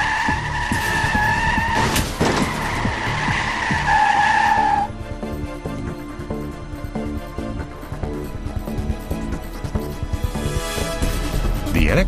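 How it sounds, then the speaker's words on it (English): A car skids with a sustained tire squeal after a sudden steering maneuver to avoid a collision, loud and close for about five seconds before the squeal cuts off, leaving engine and road rumble. "A sudden steering maneuver to avoid a collision, the vehicle starts to skid and you lose control."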